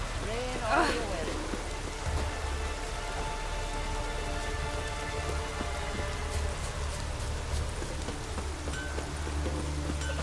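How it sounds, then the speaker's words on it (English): Steady rainfall in the video game The Witcher 3: Wild Hunt, a continuous broadband hiss of drops on surfaces that fills the whole stretch, with game sounds and a few voices mixed in. "It's raining."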